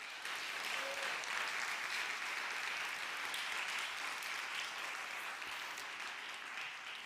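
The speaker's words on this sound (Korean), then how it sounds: "우리 하나님께 감사와 영광의 박수 올려드렸으면 좋겠습니다" A congregation at a Korean church youth Sunday service claps together in a soft, sustained wash of applause that holds evenly for about seven seconds, sounding distant and muted.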